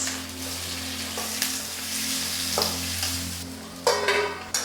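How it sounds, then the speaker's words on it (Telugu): Green chillies and onions frying in hot oil in a kadai for gongura chicken, a close, steady sizzle with scraping bursts as they are stirred, and no voices. "కళాయి వేడెక్కిన తర్వాత తగినంత ఆయిల్ పోసి పచ్చిమిర్చి, ఆనియన్స్,"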